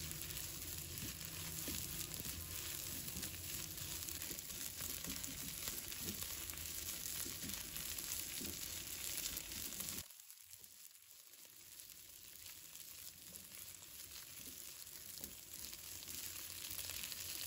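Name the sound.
stir-frying rice with soy sauce, salt and pepper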